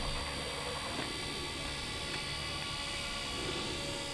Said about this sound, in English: this helicopter is going to get caught in the wind